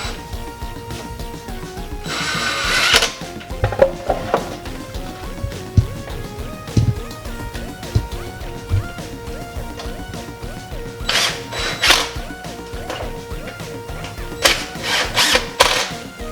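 Drilling into wood for pocket-hole joints while building a Ghostbusters Ecto Containment Unit prop, with short bursts of drill whine and workshop clatter rising and falling.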